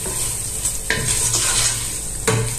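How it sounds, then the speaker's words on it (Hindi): Chicken is stirred with salt, pepper and white pepper in a hot pan for egg fried rice: steady sizzling broken by a couple of scraping stir strokes, close and clear with no talk. "ये सारे जो स्पाइसेस हमने ऐड किए हैं इनको हम हिला लेंगे अच्छी तरह चिकन के साथ"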